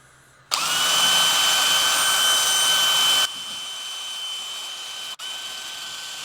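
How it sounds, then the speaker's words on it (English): A DeWalt hand drill whines at high speed as a hole saw grinds through material, then the pitch drops and the motor keeps spinning more quietly after breaking through cleanly. "DeWalt, but still just a hand drill."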